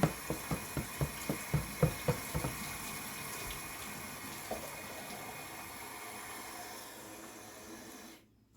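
Hot tap water runs steadily into a sink in a homestead kitchen, preceded by a quick series of sharp clicks or knocks before the flow settles into a continuous rush that gradually fades.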